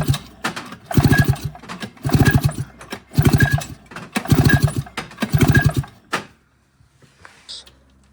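Five or six rhythmic pull-start cranks of a Ski-Doo MXZ500 snowmobile engine, each a sharp mechanical whirring burst, close by; the engine never catches and quiet follows.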